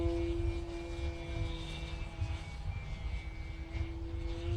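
A Dynam Sonic RC model airplane flies into the wind with a little throttle, its small electric motor giving a steady, fairly faint whine with a droning hum throughout and no speech.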